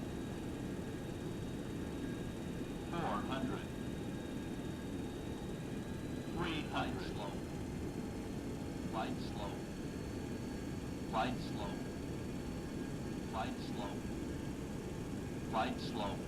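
A steady airplane engine drone from the X-Plane 11 flight simulator during a landing approach, droning evenly throughout with short automated voice callouts popping up over it every couple of seconds.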